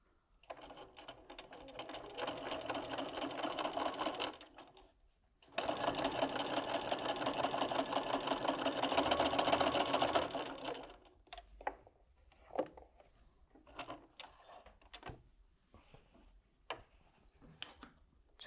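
Sewing machine fitted with a jeans needle topstitching through several thick layers of fabric for a small sunglasses case, running in two steady bursts of rapid stitching with a pause between, then scattered light handling clicks.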